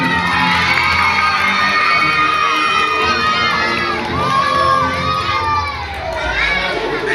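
A crowd of schoolchildren claps and cheers for a classmate at a school award ceremony, shrill shouts and whoops rising over steady applause, loud and close throughout with overlapping young voices.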